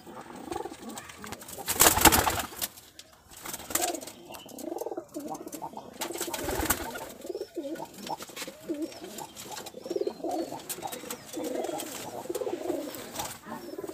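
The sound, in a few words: pigeons cooing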